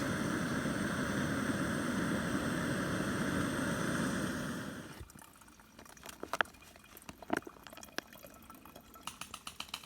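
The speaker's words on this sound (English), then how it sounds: "I'm gonna filter some water" Water being filtered at a backpacking campsite: a steady rushing flow for about five seconds, then it stops, leaving scattered drips and small trickling splashes close by.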